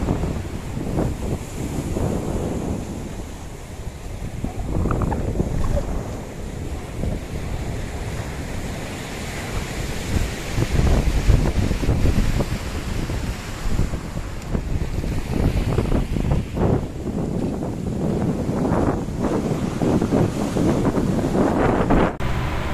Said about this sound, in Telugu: తొట్లకొండ బీచ్ అందమైన ప్రదేశం.